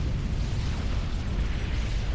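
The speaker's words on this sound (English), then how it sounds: "And explosions everywhere." Dense, rumbling explosions and booms fill a large-scale real-time strategy battle in the video game Supreme Commander, a steady low-heavy roar of blasts continuing throughout with no gaps.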